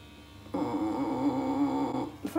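An electric toothbrush switches on and buzzes steadily for about a second and a half, a close, wavering mechanical hum, then cuts off before a short knock.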